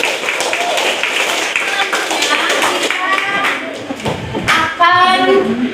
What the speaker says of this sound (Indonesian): Tepuk tangan untuk Mas Riko.